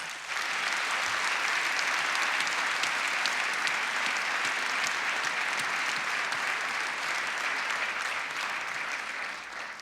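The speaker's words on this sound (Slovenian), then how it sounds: "Mislim, da si zaslužijo en močen aplavz." Concert audience applause at a music school band's New Year concert in Ormož, a long, loud, sustained wash of clapping that swells in quickly and holds steady before tapering slightly.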